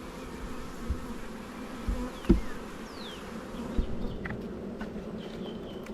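A honey bee swarm on a beekeeping farm buzzes in a dense, continuous hum, and individual bees fly close past with brief louder passes over the steady drone.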